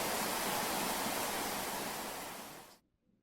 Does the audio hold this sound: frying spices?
no